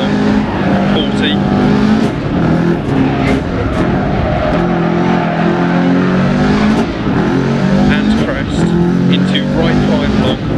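A Subaru Impreza Group A rally car on the Rallye Monte Carlo stage in the Dirt Rally video game, the engine loud and close as it revs hard through repeated gear changes and lifts, with a co-driver calling pace notes over it.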